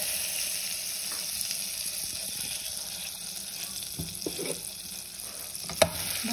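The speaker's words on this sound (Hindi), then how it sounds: "बटर को हम मेल्ट कर लेंगे।" Butter melting in a pan for semolina halwa, a steady soft sizzle and hiss running throughout with a few light clinks and scrapes near the end.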